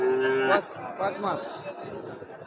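A Sahiwal cow at a cattle market gives a long, close moo that fades out, followed by people talking nearby.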